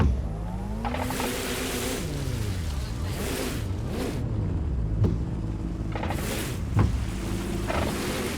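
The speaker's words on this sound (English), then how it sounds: "That doesn't sound healthy for the car. That sounds like it's about to break down." A car in Watch Dogs: Legion with a strained, unhealthy-sounding engine, steady droning tones that slide up and down as it drives, with tire squeal and faint speech in the background.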